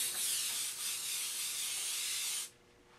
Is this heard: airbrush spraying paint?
yes